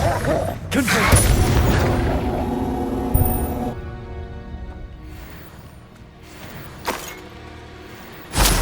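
The Confringo blasting spell in Hogwarts Legacy goes off as a loud, booming explosion with a crackling fiery tail, followed by rumbling game ambience and a second, smaller blast later on.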